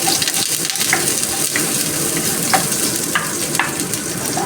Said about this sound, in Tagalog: lagyan na natin ang onion. Ang ating garlic.